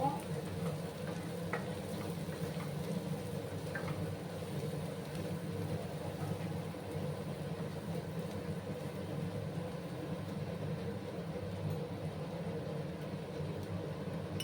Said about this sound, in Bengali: এবার ভালো করে মশলাটাকে আমি কষিয়ে নেব।